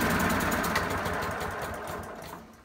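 A single-cylinder lawnmower engine runs on the last of its fuel to clear the carburettor before winter storage, a close, loud, rapid chugging that slowly fades and weakens as it starves.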